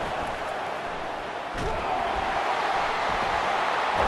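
A stadium crowd in the College Football 25 video game roars loudly and continuously, a dense wall of cheering that swells slightly midway, heard alone.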